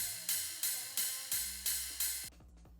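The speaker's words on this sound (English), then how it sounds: "Sometimes you might find like a ride cymbal, like this one I found" A heavy ride cymbal struck six times in a steady rhythm, each hit bright and washy with a long shimmering decay, ending abruptly.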